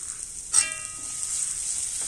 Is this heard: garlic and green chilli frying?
yes